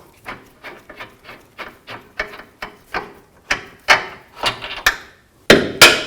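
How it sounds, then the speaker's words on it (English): Steady series of sharp metallic hammer taps knocking lower control arm bolts out of a 2000-2006 Chevy Tahoe, close and fairly loud, about two blows per second with a couple of harder strikes near the end. "You can tap them out with a hammer."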